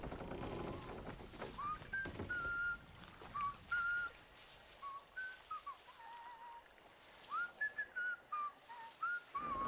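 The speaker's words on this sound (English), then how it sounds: "Hear it again, who's whistling?" Someone in the video game Atomfall whistles a wandering melodic tune in short phrases, clear but fairly quiet over a soft hissing ambient background.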